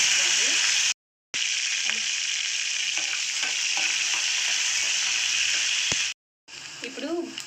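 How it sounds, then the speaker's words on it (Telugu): Onions frying in a tempering of mustard seeds, cumin, fenugreek and green chillies give a loud continuous sizzle with faint stirring clicks, cut by two brief silent gaps. "ఇప్పుడు పోపు బాగా వేగిందండి. ఎర్రగడ్డలు బ్రౌన్ కలర్లో వచ్చేసాయి."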